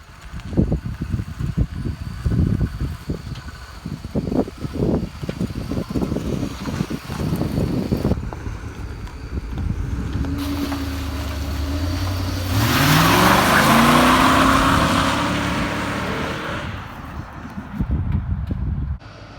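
A 1950 Ford F1 pickup on a 2000 Ford Explorer Eddie Bauer chassis and drivetrain cruising down the road, a steady engine rumble with wind buffeting the microphone and a rising rev midway, loud and continuous without speech.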